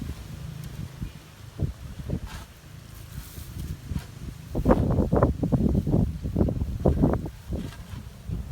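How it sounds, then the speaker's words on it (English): Strong, gusty wind on a farm in Jamaica buffets the microphone in low rumbling bursts, calmer at first and then stronger and more continuous, with faint rustling and no talk. "it's very windy in the background"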